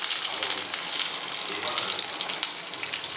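Curry leaves sizzling and crackling in hot oil for a Tamil kudal kulambu (boti curry), a steady dense frying hiss with scattered pops, close and fairly loud throughout.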